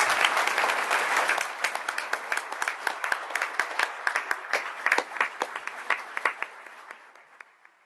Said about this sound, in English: I'd like to have a round of applause for them